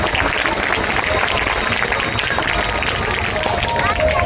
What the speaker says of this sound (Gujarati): એકવાર જોરદાર તાળીઓથી વધાવીએ.